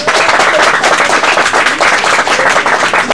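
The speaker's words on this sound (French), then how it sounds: "on applaudit pour ça" Loud crowd applause at an outdoor political campaign rally, a dense continuous patter of many clapping hands with sharp crackling claps throughout, close and undiminished.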